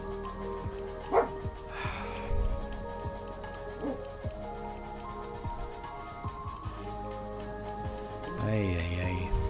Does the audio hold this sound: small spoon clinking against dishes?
no